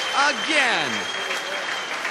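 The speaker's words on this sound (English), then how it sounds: "Just listen to this crowd" A sports crowd applauds steadily in the background while a commentator talks loudly over the clapping.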